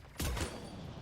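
A single gunshot in a video game, a sudden loud boom with a short rumbling tail that fades over about a second.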